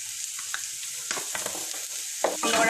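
Cauliflower frying in a pan with coriander leaves and cardamom-cinnamon powder, stirred with scraping spoon strokes over a soft sizzle that grows louder and brighter toward the end, close up with no talk.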